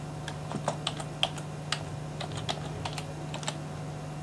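Computer keyboard keys typed in short irregular bursts of crisp clicks while a folder name is entered, close and fairly quiet over a steady low hum, no talking.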